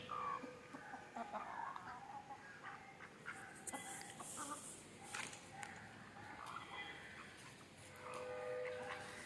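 Free-range country chickens clucking and a rooster calling on a farm, repeated cackles and calls at moderate distance over steady outdoor background noise.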